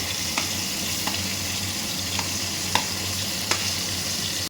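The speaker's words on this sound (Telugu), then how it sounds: "ఇవన్నీ బాగా రోస్ట్ అవ్వాలి." Chopped tomatoes and garlic roasting in a pan for ridge gourd chutney, a steady loud sizzle with a few faint stirring clicks and no talking.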